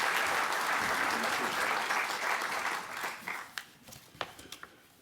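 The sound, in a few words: audience applause welcoming lecturer Dr. Ben Wynne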